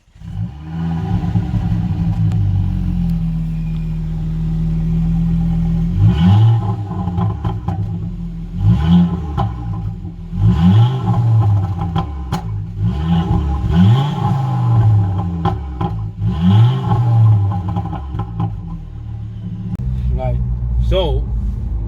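A Ford Focus ST with a back box delete exhaust revs repeatedly, producing a series of rising engine surges over a steady low rumble, loud and nearby, with someone talking over it.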